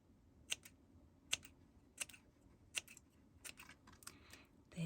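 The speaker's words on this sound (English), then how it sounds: "now I'm gonna take my scissors" Scissors snip through scrap tape in a string of crisp, separate cuts about one every second, close and quiet with no talking.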